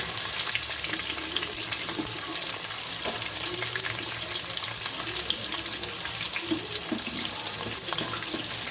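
Chopped onions, garlic and green chilies sizzling in hot oil in a pan after frying fish, a steady soft crackle and hiss with faint clinks, fairly quiet and without voices.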